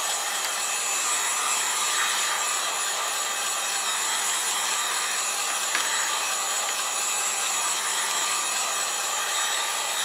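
A dryer blows hot air over freshly colored cardstock. It makes a steady, loud, unbroken whooshing whir that holds at an even level the whole time, with no voices.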